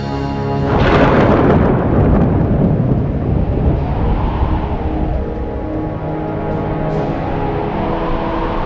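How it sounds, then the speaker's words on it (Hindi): Thunder rolls in during a storm, a loud deep rumble that swells quickly and then lingers as a long, steady roar with gusting wind noise. "ये अचानक से तेज हवाएं और बिजली क्यों कड़कने लगी?"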